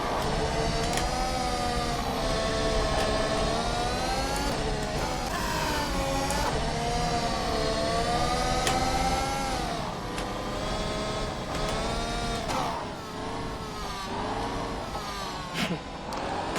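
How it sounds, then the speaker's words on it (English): A Ferrari engine in the rFactor 2 racing video game at the Targa Florio circuit, smoking and running hard: a continuous buzzing, revving whine that rises and falls with gear changes, loud and steady, ending with a few short shifts and dips. "Poor Ferrari engine, smoking all the way through."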